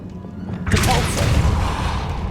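A Depulso spell impact in the video game Hogwarts Legacy: a sudden loud thud with a broad crashing burst, followed by a sustained rumbling wash that slowly fades.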